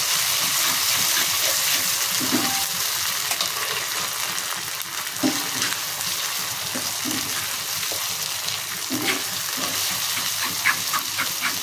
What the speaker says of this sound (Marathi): त्याच्यामध्ये आता आपण मिरची बारीक वाटून घेतलेली आहे ते टाकून फ्राय करून घ्यायचे